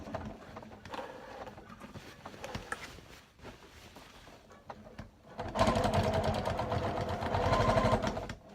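A sewing machine stitches a shopper bag in rapid, steady runs, quiet and sparse at first, then louder and continuous over the last few seconds, with no voices.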